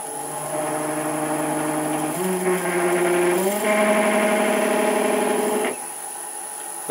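Wood lathe spinning at about 700 revs, a steady humming whine with tonal harmonics that steps up in pitch twice before dropping away near the end.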